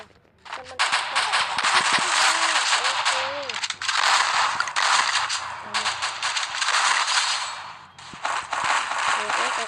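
Rapid bursts of automatic gunfire from a shooting video game, dense and loud rattling volleys with brief pauses, while someone talks over the action.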